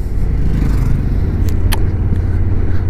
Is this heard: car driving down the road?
yes